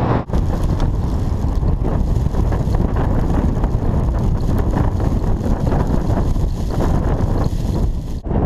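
Strong wind roars across the Sechura Desert in Peru, buffeting the microphone with loud, continuous rumbling gusts for the whole stretch.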